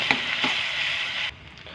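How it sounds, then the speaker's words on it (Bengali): Spices with Kashmiri chilli powder sautéing in a pan for a Bengali fish curry: a steady hissing sizzle with a couple of light scraping stirs, then it cuts off abruptly near the end. "লঙ্কা গুঁড়ো, কাশ্মীরি লঙ্কার গুঁড়ো দিয়ে আমরা ভালো করে কষিয়ে নেব"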